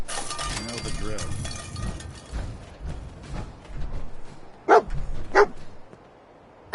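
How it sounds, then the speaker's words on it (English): Dog barks from the companion dog in the video game Fallout 4, two sharp close barks standing out over a busy background of game ambience and voices. "Dog meat's found something."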